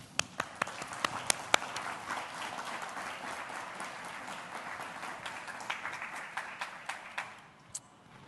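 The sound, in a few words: audience applause for panel coming on stage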